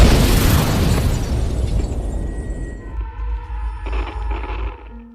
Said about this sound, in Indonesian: tiba-tiba sebuah bom meledak